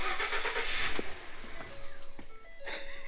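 A Ford car's engine cranks and tries to start, with a raspy whirring burst up front, then a few quieter clunks and a faint electronic tone.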